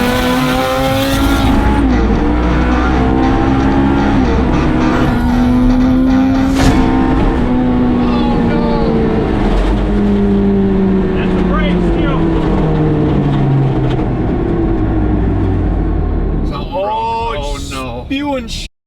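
A turbocharged mini truck drives on the road towing a wakeboard boat. Its loud, close engine holds a strained, droning whine with shifting pitch as it revs and eases, and voices are heard over it before it cuts out at the end.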